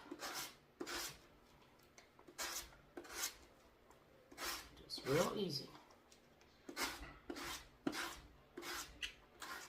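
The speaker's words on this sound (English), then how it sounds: "I got my little sanding brick, and I'm just going to real easy go over the edges" Repeated short rasping strokes of a sanding block scrub back and forth along edges at close range, with a person speaking briefly between strokes.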